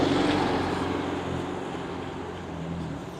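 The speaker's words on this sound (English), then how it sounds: "Sorry about the noise of the traffic." Steady road traffic rumbles along a street in Costa Teguise, a broad continuous wash of passing cars that eases slightly partway through, with no voices.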